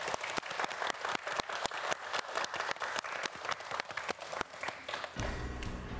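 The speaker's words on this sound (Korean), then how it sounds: "네 학생 모두에게 큰 박수 부탁드립니다" Studio audience applauding four students at the end of a televised quiz show, a dense run of sharp claps that ends abruptly near the end into a different, musical sound.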